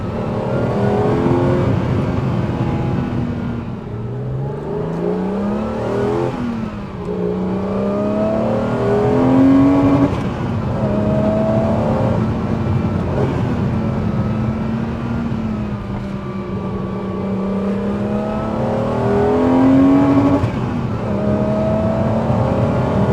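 BMW M1 mid-engined sports car revving as it drives, the engine rising and falling through repeated throttle surges and gear changes, loud and steady from inside the car for over twenty seconds.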